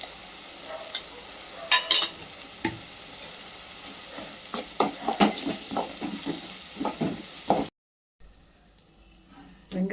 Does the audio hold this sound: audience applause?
no